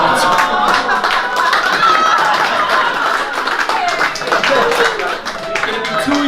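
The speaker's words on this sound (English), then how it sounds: "Don't clap, you don't know her." A stand-up comedy club audience at The New York Comedy Club breaks into sustained clapping and applause, dense and steady throughout, with a voice talking over it.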